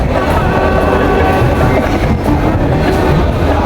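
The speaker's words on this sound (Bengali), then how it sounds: "ট্রেন অলরেডি স্টার্টিং হয়ে গিয়েছে, বাট এখন শুধু রানিংয়ে আস্তে আস্তে স্লোলি যাবে।" Train pulling out of Kamalapur railway station, moving slowly: a steady, dense rumble of rolling wagons with faint clickety-clack, continuous and fairly loud throughout, no talk.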